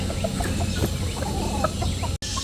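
Golden Boy gamefowl chicken clucking in short soft bursts over a steady low farmyard hum, close by, with a brief dropout near the end.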